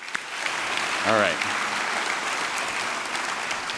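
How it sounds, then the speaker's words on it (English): An audience at a corporate keynote claps in a sustained round of applause, dense and fairly loud, while a voice briefly speaks over it near the start. "Can we give ourselves a round of applause?"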